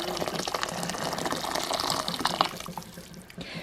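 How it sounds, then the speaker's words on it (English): Hot water pours steadily into a bowl of hot dogs, a continuous liquid splashing and gurgling close by that tapers off near the end. "pour the hot water over them."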